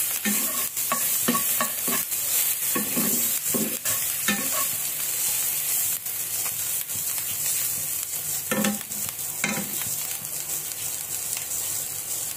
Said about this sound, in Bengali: পেঁয়াজ মরিচ ভাজা হয়ে আসছে।